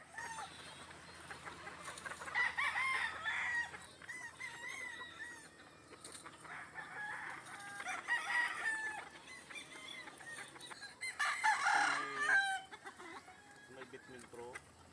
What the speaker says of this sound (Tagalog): magpatuka ng mga manok